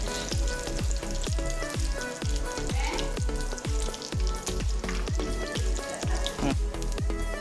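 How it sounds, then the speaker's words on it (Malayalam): Chicken pieces for a chicken fry biryani deep-frying in a pan, a loud, steady sizzle with a regular rhythm of scraping stirs, close up and with no talk. "നമ്മൾ ഓരോ ട്രിപ്പും ഇങ്ങനെ ഫ്രൈ ചെയ്തെടുത്തിട്ട് ഇങ്ങനെ മാറ്റി വയ്ക്കുന്നുണ്ട് പാത്രത്തേക്ക്"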